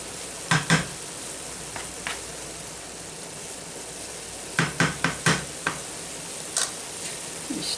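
Spoon stirring pasta in a cooking pot: short clusters of scraping and clinking against the pot, in a few bursts separated by quiet gaps, fairly close and with no talking.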